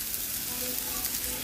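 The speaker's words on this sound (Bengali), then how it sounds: "তো এই যে ভাজা হয়ে আসছে, আর একটু হবে" Potatoes frying in a pan for potato bharta, a steady close crackling sizzle with fine popping and a soft bright hiss throughout, no pauses.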